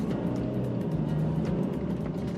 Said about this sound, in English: The engine pushes quite good, but it doesn't feel like an AMG